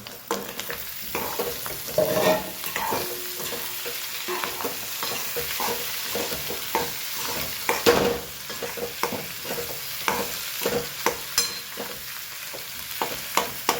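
Boiled potatoes and dal stirred and fried together in a pan with masala: a steady close sizzle with repeated scraping and clacking of the spoon against the pan, no voices.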